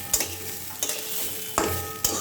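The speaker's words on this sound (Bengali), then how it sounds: "চালটা দিয়ে দিলাম, চালটা দিয়ে একটু নাড়বো।" A pan of raw rice fries while it is stirred, with four distinct scraping strokes over a soft, continuous sizzle, close and fairly loud, with no voices.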